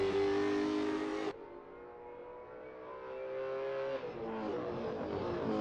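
A V8 Supercar races around the hilly Bathurst circuit, its engine loud and close, revving hard, then dropping sharply on a gear change before climbing again in pitch, with no talking.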